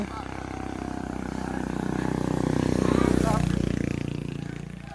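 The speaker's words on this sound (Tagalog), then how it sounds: "Salubong na naman motor." A motorcycle approaches and passes along a roadside path, its engine drone swelling to a peak midway and then easing off, with a person talking over it.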